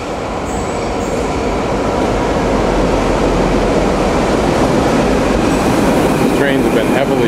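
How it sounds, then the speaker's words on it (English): Rome metro line A train rumbling into a station, a loud steady roar of wheels and motor that fills the whole stretch, with brief squeals and clatter toward the end. "Tells us that the next train will be here in a minute."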